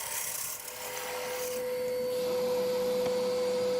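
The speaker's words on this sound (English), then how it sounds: "Lovely bit of sanding going on." Continuous rasping of 80-grit sandpaper against spinning wood, a steady abrasive hiss over the hum of a running lathe motor.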